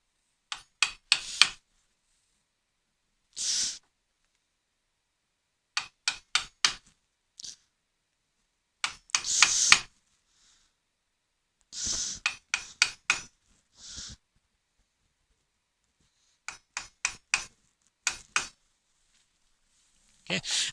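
A wood chisel chops a haunched mortise with bursts of sharp, close taps in quick groups of three or four, separated by silent pauses and a few single scraping strokes.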